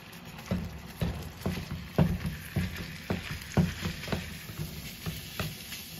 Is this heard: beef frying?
yes